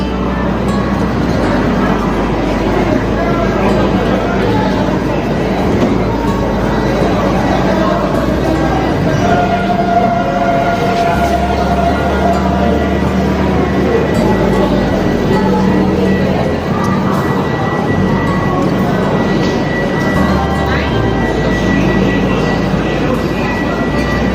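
Secunderabad Express standing at an Indian railway station, a steady loud rumble of train and platform noise filling the whole stretch with no clear break, voices mixed into the background din.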